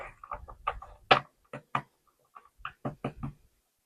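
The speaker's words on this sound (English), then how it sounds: "Give it a couple knocks," Knocking on a tarot card deck: a series of short, crisp, close taps in quick irregular clusters, alone in a quiet room.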